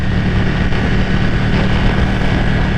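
Ducati motorcycle engine droning steadily while riding, loud and close with heavy wind rush, no speech.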